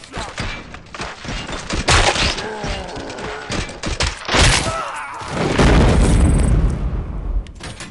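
Gunfire in the video game RoboCop: Rogue City, loud bursts of shots and heavy booming impacts, including a sustained rumbling blast near the end, with brief shouted voices among the noise.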